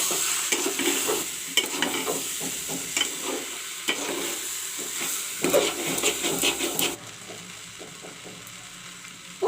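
A spoon stirs khichdi with salt and turmeric powder in a pan, making repeated close scraping strokes over a soft sizzle, with a brief pause and quieter tail near the end.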